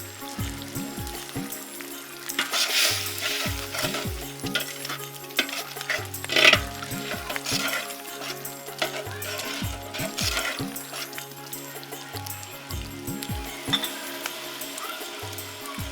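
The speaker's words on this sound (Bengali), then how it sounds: "কষানো হয়ে এসেছে মশলা।" Ground coriander and chili powder frying in a pan while being stirred, a steady close sizzle with repeated scraping and clinks of a spoon against the metal.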